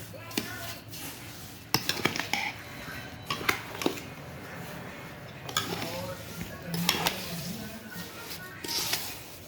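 Pickle pieces being stirred in oil in a jar for a traditional homemade village-style pickle: faint clinks and soft squishy scrapes of a spoon against the container, irregular and close, with quiet talk in between.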